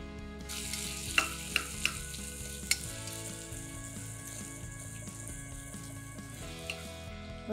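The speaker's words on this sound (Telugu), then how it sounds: "టపటప అంటూనే ఉల్లిపాయలు వేసేద్దాం." Sliced onions hit hot oil in a pan for vegetable pulao and sizzle steadily, with a few sharp spatula taps early on and a continuous bright frying hiss, close and clear, no voices.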